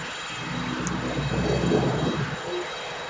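A helicopter engine in the Microsoft Flight Simulator X game gives a steady, droning whine that swells slightly as the throttle opens, heard alone with no talk.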